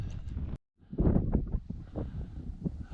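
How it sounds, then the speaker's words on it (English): Cold wind gusts buffet the microphone on a Lake District fell walk between Pike and Brown Pike, a steady rough rumble with a brief lull before resuming. "That wind is absolutely freezing."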